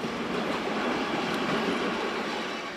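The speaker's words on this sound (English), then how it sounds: "This German Class 111 is heading a train from Innsbruck bound for Munich via Garmisch-Partenkirchen." German Class 111 electric locomotive hauling a train at Innsbruck toward Munich via Garmisch-Partenkirchen, a steady broad rolling rumble of wheels on rail with dense clatter, constant and fairly close throughout.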